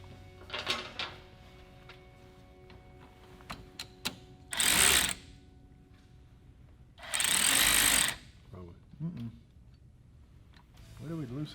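Power tool tightening bolts on the A-arms of a RZR 200, two loud sustained whirring bursts of a couple of seconds each with quieter clanks and brief talk between them.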